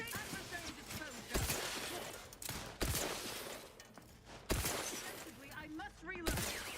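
Bursts of gunfire ring out in a video game fight against guards, several loud shots spaced a second or two apart over a busy background of game effects and faint voices.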